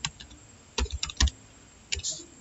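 A few keystrokes on a computer keyboard while working in a MySQL database, scattered sharp clicks close by, with one heavier press standing out as the Enter key.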